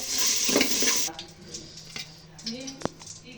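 Capsicum going into a pan for fried rice with a pinch of salt, a bright sizzle at first that soon settles into quieter frying, stirring clinks and one sharp utensil tap, under a voice.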